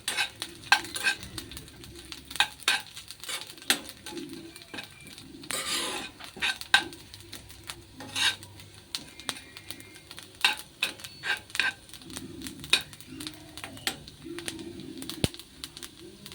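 Unniyappam batter frying in a pan, a quiet continuous sizzle with frequent small clinks and scrapes of a utensil against the pan, close and steady throughout.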